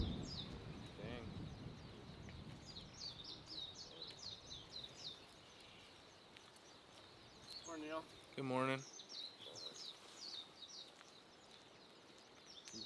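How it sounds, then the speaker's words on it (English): Birds chirp and sing in short repeated bursts through a morning outdoor scene near the erupting Kilauea volcano, moderately near, with a louder call in the middle and people briefly greeting each other over it. "You guys hear the birds? They are up and awake, huh?"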